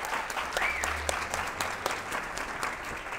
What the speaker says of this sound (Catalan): Un aplaudiment per ells, si us plau.